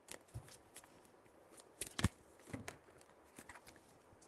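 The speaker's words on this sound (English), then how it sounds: "These cards are so hard to shuffle" Tarot cards being shuffled by hand, soft papery riffles and brief slaps in an uneven rhythm, close and fairly quiet, with a louder cluster of card flicks near the middle.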